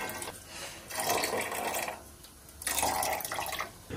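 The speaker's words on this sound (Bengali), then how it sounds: "নারকেলটা যে দুধ বার করে রেখেছিলাম, দুধটা দিয়ে দিচ্ছি।" Coconut milk is poured into a pot, making liquid splashing and trickling sounds that swell in two separate surges with quieter gaps between them.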